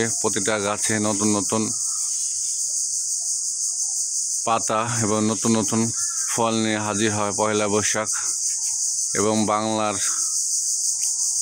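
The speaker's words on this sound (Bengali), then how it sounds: "এই ঝিঝি পোকার ডাকাডাকির আগমনে এটা একটা গ্রাম বাংলার রূপ।" Crickets chirping in rural Bengal, a steady high shrill drone running throughout at constant loudness beneath someone narrating in bursts.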